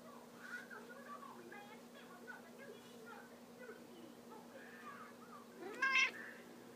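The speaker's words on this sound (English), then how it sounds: "cat's interfering with the video" A cat meows near the end, a short bright call rising over low background chatter and a steady hum, indoors during an outtake of a Sega CD Make My Video Kris Kross game.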